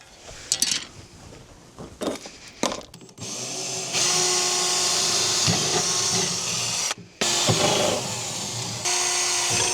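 A power drill bores a hole through a canopy base plate at a campsite. Scattered knocks and handling noises come first, then a loud, sustained drill whine that pauses briefly and starts again.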